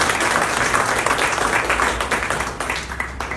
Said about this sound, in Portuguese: Palmas para nós todos.